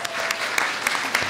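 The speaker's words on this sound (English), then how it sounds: "please clap Molly" Audience at a comics panel gives dense, steady applause with sharp individual claps standing out, heard close and alone for just over a second.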